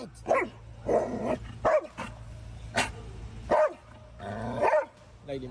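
Red, a guard dog, barks in sharp, loud bursts spaced a second or so apart, with growling between them, close by and alone without talk.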